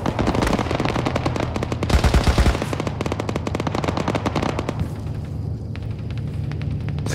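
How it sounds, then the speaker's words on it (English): A .50 caliber machine gun fires in a video game battle, a loud, sustained stream of rapid rounds with heavy low thumps, easing into a lighter, steady burst toward the end. "Zach, it has a 50 cal that can shoot back at us"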